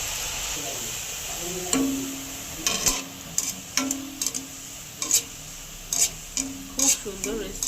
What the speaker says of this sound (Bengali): এবার ফুড কালার দিয়ে যেটা মেখে রেখেছিলাম সেইটা ভেজে নেবো